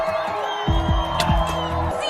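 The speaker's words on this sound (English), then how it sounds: "Once we're back in town, a crowd greets us back." A townsfolk crowd in Minecraft Story Mode greets the returning heroes with cheers and whoops, a busy mid-level roar of voices under steady game music, with a few louder shouts rising through.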